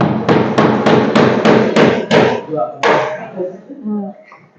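A hammer strikes in a fast, steady series of about eight loud, close blows, followed by faint scraping and a few softer knocks.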